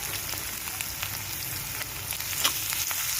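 Ginger garlic paste frying with onions in a pan for a potato curry, a steady close sizzle with faint crackles and a brief louder spatter near the end, no talking.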